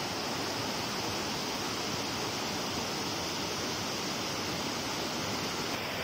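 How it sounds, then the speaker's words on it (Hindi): A steady, dense roar of rushing water pouring over a waterfall, loud and continuous with no pauses. "तो खाली साउंड सुनो आप इसकी, पानी के फ्लो की।"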